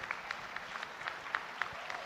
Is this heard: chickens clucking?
no